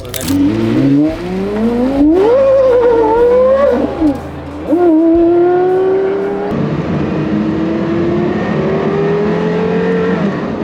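Porsche Carrera GT engine on a racetrack, loud and close throughout, its pitch rising and falling through repeated upshifts before settling into a steady, sustained drone.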